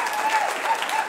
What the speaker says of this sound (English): Let's give our Lord and Savior a good hand clap.